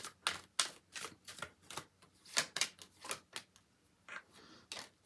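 Tarot and oracle cards being shuffled and pulled, a run of crisp, close slapping riffles and snaps in uneven bursts with short pauses between, fairly quiet overall and no talking.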